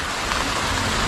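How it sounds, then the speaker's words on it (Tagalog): Rain falls steadily and densely, a close, even hiss of drops spattering on surfaces with no voices over it. "Umulan na."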